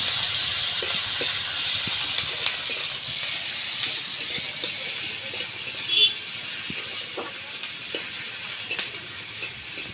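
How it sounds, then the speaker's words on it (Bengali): Chopped onions fry and are stirred in hot oil, a steady broadband sizzle with scattered soft scrapes and clicks of the spoon against the pan, close and continuous throughout without talk. "ভালো করে তেলের ওপর নেড়ে চেড়ে পেঁয়াজটাকে ভেজে নেব"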